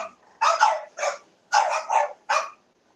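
Dog barks in an English bulldog kennel: five loud, close, separate barks in quick succession, grouped into two bursts with a short pause between them, and no voices.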